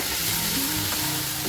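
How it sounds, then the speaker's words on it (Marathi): Green chillies frying in hot oil in a pan, a brief, steady, close sizzle with no talk. "हिरवी मिरची घालायची आहे आणि तेलामध्ये तळून"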